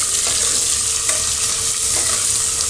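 Onion sizzles steadily in hot oil with cumin in a pan, stirred now and then, a dense close hiss throughout with faint scrapes.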